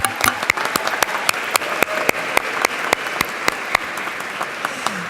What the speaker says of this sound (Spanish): Y quiero que también nos demos un fuerte aplauso a ustedes, los interesados.